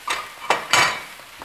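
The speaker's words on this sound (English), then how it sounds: "I'm going to mix with the potatoes." A utensil stirs crushed chilies into potatoes in a pan, with several close, sharp scraping clatters spaced unevenly and a faint sizzle underneath.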